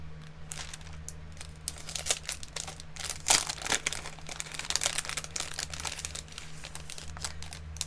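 A plastic package of die cut shapes crinkles and crackles as it is handled up close, in irregular bursts that grow busier midway before settling back.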